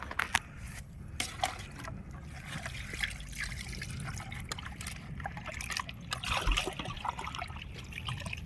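Liquid, likely oil, trickling and pouring steadily for several seconds, with soft splashing and background clatter while cooking country chicken chukka.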